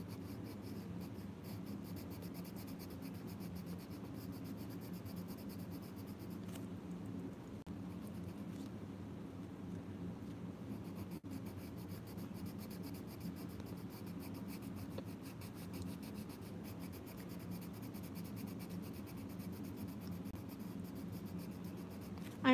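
Colored pencil rubs across toothed paper in a continuous soft scratchy scribble that holds at a steady low level for over twenty seconds, with no talk.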